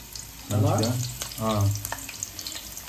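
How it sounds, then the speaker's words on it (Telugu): Onions sizzle steadily in hot oil in a pan for a country-chicken pulao, with a close, constant frying hiss under two brief bursts of voice. "సో ఆయిల్ హీట్ ఎక్కింది కదా, దాంట్లో యాడ్ చేయాలి. ఆనియన్స్ యాడ్ చేయి."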